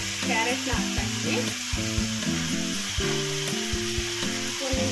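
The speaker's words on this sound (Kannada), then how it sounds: "ಚೆನ್ನಾಗಿ ಫ್ರೈ ಮಾಡಿಕೊಡ್ರಿ" Chopped vegetables sizzle steadily in a pan for upma, with intermittent scraping and stirring strokes running through the close, continuous frying with no talk.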